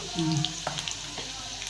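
Garlic, cumin, mustard seeds and turmeric frying in oil for a village-style mung dal amti, a steady close sizzle and crackle with a few light clinks, no talking.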